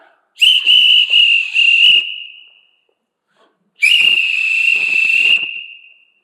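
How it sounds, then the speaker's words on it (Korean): Two long, loud, shrill whistle blasts, each held about two seconds, separated by a brief silence. "그건 휘바람이 아니라 휘슬, 호루라기 같이 임하는 거예요"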